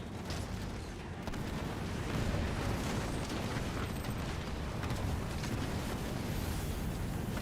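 Scorpion tanks in the video game Halo Wars 2 fire in a dense, continuous barrage of rumbling explosions and booms, heard as a steady loud battle roar with no voices.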